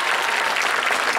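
A hypnotist show audience claps in a dense, continuous burst of applause, loud and even throughout.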